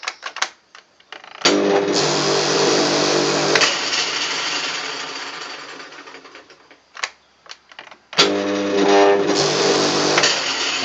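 A lawn mower that has just had its capacitor replaced runs roughly, its motor straining in two loud near bursts that sag and cut out, with short clicks and knocks between them and no talk.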